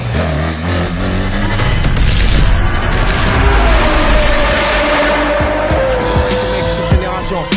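A BMW GS 1300 Adventure motorcycle revving and accelerating, loud and close, with a rising engine note mixed with other road noise and bursts over several seconds.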